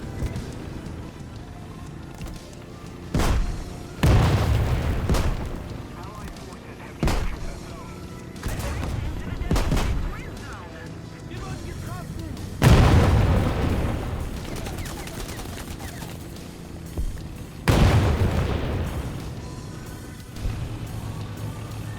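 Heavy tank cannon shots boom repeatedly from a Leopard A1A1 L/44 battle in War Thunder, several sharp blasts with rumbling tails spaced irregularly over steady engine and battlefield rumble, some close and loud, others duller.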